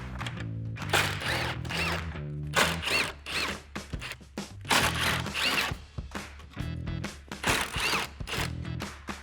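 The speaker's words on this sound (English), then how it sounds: "We need to remove those with a 10 millimeter socket." A ratchet with a 10 mm socket turning out the grille bolts on a 2016-2018 Chevrolet Silverado 1500, heard up close as repeated bursts of rapid mechanical clicking separated by short pauses.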